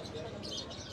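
Pigeons coo amid steady background chatter in a busy outdoor setting in Hulhumale, Maldives, their soft low calls partly under voices and ambient noise.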